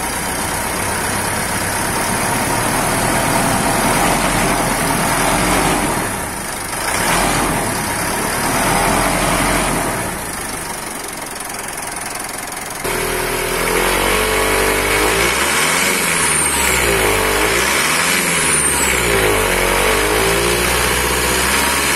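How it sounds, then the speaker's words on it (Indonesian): Mitsubishi Pajero Sport Dakar VGT diesel engine with variable geometry turbo, running steadily close by with a high thin turbo whistle over the engine drone, rising and falling twice toward the end as it is revved. "Kalian udah dengar kan suara turbonya nyaring seperti siulan?"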